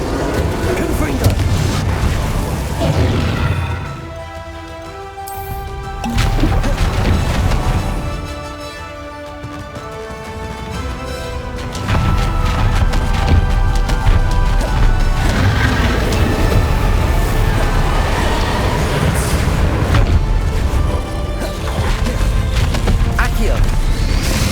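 Confringo and Bombarda spell blasts in Hogwarts Legacy gameplay, booming impacts and crashes over a dense game soundtrack, with a voice casting spells and talking throughout.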